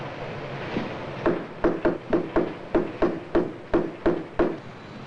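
A chisel is driven into a wooden door jamb in a steady series of about a dozen sharp, close knocks, evenly spaced and woody, with no voices.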